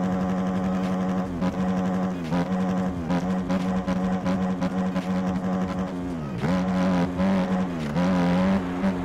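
Motorcycle engine in the MX Bikes racing game, a loud close buzzing rev that climbs and drops repeatedly as gears shift, sustained for several seconds with no speech.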